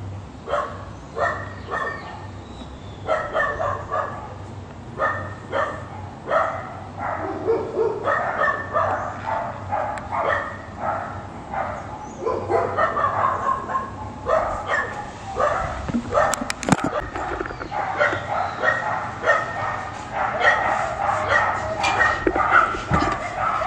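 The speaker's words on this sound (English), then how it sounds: "Why they start barking when I came out here?" Several dogs bark and yip repeatedly and loudly, with some whimpering mixed in, a continuous chorus of barking close by.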